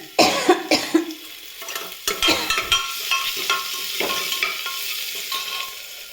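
Garlic dropped into hot frying oil already holding curry leaves and ginger, giving a close, steady sizzle broken by scraping stirs and a few sharp clatters of a spoon against the pan.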